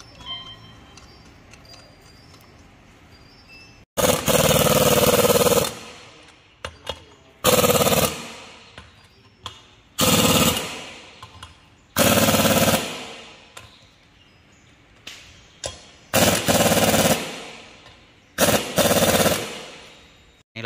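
An impact wrench tightens wheel nuts on a Toyota Vigo in a series of loud, close, rattling bursts, about seven of them, each lasting a second or so and separated by short pauses with quieter clicks.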